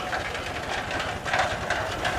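An A-model Gaar Scott steam traction engine runs at the 2014 Rushville, Indiana Pioneer Days show, giving a steady, rough mechanical churn with faint chuffing pulses amid outdoor show noise.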